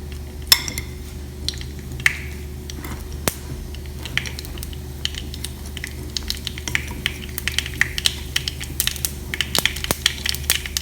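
Mango pickle pieces and spices are being mixed by hand or spoon, giving a steady crunchy, gritty rustle with frequent small clicks and taps against a bowl.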